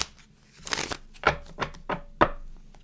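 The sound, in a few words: shuffling tarot cards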